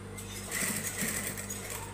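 Sewing machine stitching fabric at close range, a quick steady whir and needle patter lasting under two seconds with no talk.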